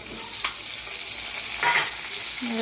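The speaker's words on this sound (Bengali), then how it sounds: "এবার আমি দিয়ে দেবো কেটে রাখা পেঁয়াজ, টমেটো আর লঙ্কা।" Steady sizzling of onion, tomato and chilli frying in a pan, with a brief stir or scrape and no talking.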